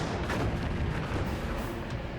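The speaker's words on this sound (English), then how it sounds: "Laffey's 5-inch guns quickly open fire." Naval 5-inch guns aboard the destroyer Laffey firing at an approaching dive bomber, a dense, continuous roar of heavy gunfire and booms that fills the whole short stretch, loud and alone.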